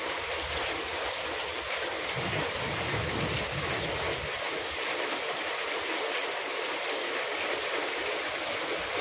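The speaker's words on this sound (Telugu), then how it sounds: "వర్షం చూసారా ఎట్లా పడుతుందో?" Heavy rain pours down steadily, a loud dense hiss that never lets up, with a soft low rumble in the early part.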